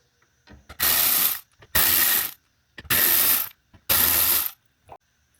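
A ratchet driver backs out the four corner screws holding the radio in a Jeep dash; four loud, close bursts of rapid clicking, each about half a second, separated by short pauses with faint handling noises.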